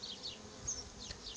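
Honey bees buzzing in a hive during an inspection of a frame in an apiary, a faint steady hum close by with no voices.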